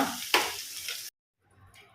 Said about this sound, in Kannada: ಒಂದು ಅರ್ಧ ಸ್ಪೂನಷ್ಟು ಅರಶಿನ ಸೇರಿಸಿ ಒಂದು ಮಿಕ್ಸ್ ಕೊಟ್ಟು ಗ್ಯಾಸ್ ಆಫ್ ಮಾಡುವ